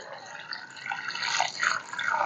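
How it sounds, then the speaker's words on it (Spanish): Water poured into a cooking pot of malanga and güisquiles (chayote) being boiled, a close, steady splashing stream lasting a couple of seconds and gradually growing a little louder, with no voices over it. "Procedemos a echar agua."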